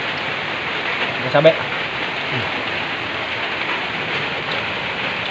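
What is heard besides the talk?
heavy rain falling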